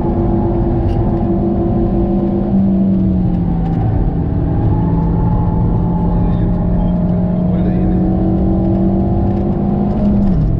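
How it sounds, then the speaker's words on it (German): Car engine in a racing game with steady, loud harmonic drone that shifts pitch as the driver downshifts into third gear without braking, holding a continuous whir throughout. "Runterschalten in den dritten Gang ohne Bremsen, weil mein Auto so sehr an Speed verloren hat."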